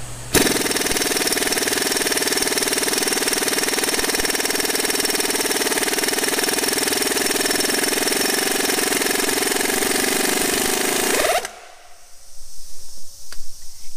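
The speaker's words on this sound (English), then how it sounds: "Let's find out at 90 psi if this snap-on gun will take one off." A Snap-on pneumatic impact gun running at 90 psi on a nut, a loud continuous hammering rattle for about eleven seconds that cuts off abruptly, followed by faint clinks and quiet handling.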